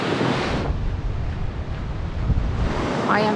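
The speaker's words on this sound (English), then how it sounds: "I can just stand here for hours and watch the waves." Ocean waves break and wash along the shore at El Golfo on Lanzarote, a loud broad surge mixed with strong wind buffeting the microphone, and a brief voice near the end.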